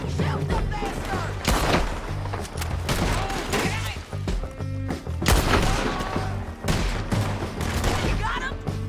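Gunfire erupts in a Red Dead Redemption 2 shootout, with rapid overlapping shots and sharp cracks in close, repeated bursts, mixed with shouting voices.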